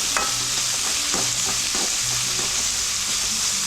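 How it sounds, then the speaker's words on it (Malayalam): Potato bhaji sautéing in a pan on high flame, with a loud continuous sizzle and repeated scraping stirs of a spoon, close by and with no talking. "കൂടിയ ഫ്ലെയിമിലാണ് വെച്ചിരിക്കുന്നത്. ഇങ്ങനെ വഴറ്റുക."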